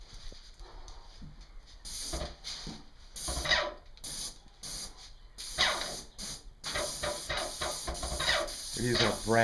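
An airless sprayer with a RAC X 310 fine finish tip applies a heavier final coat of lacquer to cabinets, producing intermittent hissing bursts of spray close by, with someone talking between and over them.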